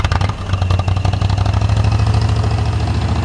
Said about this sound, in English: I'm just going to go ahead and start and push it in.